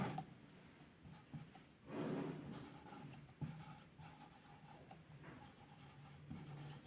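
Chalk or marker strokes on a board during a chemistry lesson on intermolecular forces come as faint, close scratching bursts in a quiet room, with a stronger stroke near the start and softer ones later.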